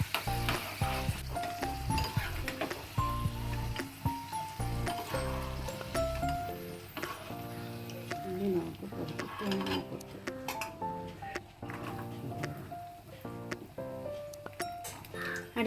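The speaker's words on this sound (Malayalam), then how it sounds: "കിസ്മിസ് വഴറ്റിയെടുക്കണം." Raisins sauté in a pan for pineapple payasam, with steady sizzling and frying crackle alongside intermittent scrapes and clinks of stirring, while a voice is heard at times.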